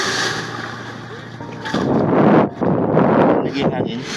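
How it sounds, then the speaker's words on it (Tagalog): Strong wind gusting by the sea at Bato, Leyte, with rough high-tide waves, roaring and buffeting the microphone in loud, sustained bursts while voices talk underneath. "Lakas ang hangin, no?"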